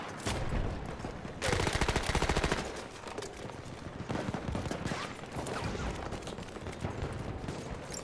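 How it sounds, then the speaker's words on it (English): Battlefield 1 machine gun fire rattles in a dense rapid burst, then continues as scattered overlapping shots and distant gunfire at moderate volume. "There's a machine gun."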